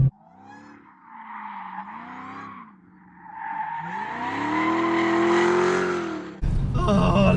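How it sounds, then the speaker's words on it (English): A Dodge Demon skids and drifts with loud, wavering tire squeals sliding up and down in pitch over engine drone, then the squeal sustains high and strong before an abrupt cut to louder engine roar. "this car isn't about skids and stuff like that"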